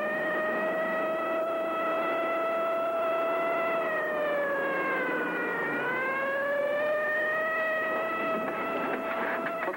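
A police car siren wails during a road pursuit, a steady, fairly loud tone that dips and swells slowly once midway, heard alone throughout.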